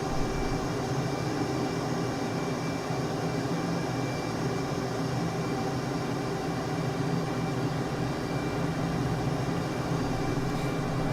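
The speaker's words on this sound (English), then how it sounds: "That's full afterburner." A jet on full afterburner in a flight game, a continuous loud roaring engine drone holding steady throughout without a break.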